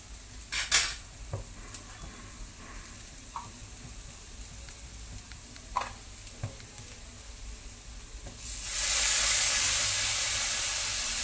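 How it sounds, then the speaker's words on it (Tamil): Banana stem stir-fry with lentils being mixed in a pan: a spoon clinks and scrapes against the metal a few times, sparse and close, then a steady soft hiss takes over. "நல்லா மிக்ஸ் பண்ணிடணும்."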